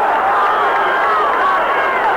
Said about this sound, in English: That's the first time I've heard the SC section cheer across the way